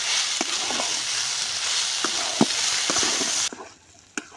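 Pasta being stirred with pasta masala in a hot pan, a steady sizzle with repeated scraping and clinking strokes of the spoon, then the frying noise drops off abruptly near the end, leaving a few soft knocks.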